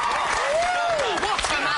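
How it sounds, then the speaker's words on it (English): TV morning show studio audience applauding, a dense steady wash of clapping with a rising and falling whistle riding over it, loud and close throughout. "Round of applause, ladies and gentlemen"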